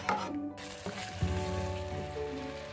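Shahi paneer gravy with coriander powder roasting in oil in a pan, a soft steady sizzle with occasional stirring scrapes and faint background tones.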